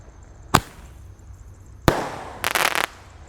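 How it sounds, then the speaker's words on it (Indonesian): Small Indonesian firecrackers go off from a box inside a water gallon: two sharp single bangs, then a rapid crackling burst, loud and close with quiet gaps between. "8 shot berhasil menyala semuanya guys"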